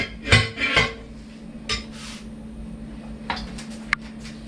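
Veggie burger ingredients being stirred together with a utensil in a bowl after smoked paprika is sprinkled in, giving a few clattering scrapes and knocks near the start, then quieter scattered clinks and a sharp tap near the end.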